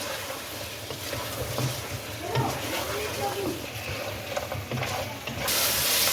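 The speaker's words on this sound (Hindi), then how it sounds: "अब मसाले को इसमें भूनें और 2 से 3 मिनट तक अच्छे तरीके से इसको भूनें ताकि मसाला भी इसमें भून जाए।" Spiced masala frying with mutton in a pot, a steady hiss and sizzle with stirring scrapes throughout, growing louder near the end, with a voice talking over it.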